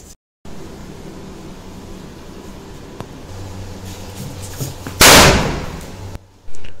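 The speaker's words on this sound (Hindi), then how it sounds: "पटाखे रेडी है" Firecrackers go off at a birthday celebration outdoors. A faint pop comes first, then one loud, sharp blast about two-thirds of the way in, followed by a brief lull and another burst of noise.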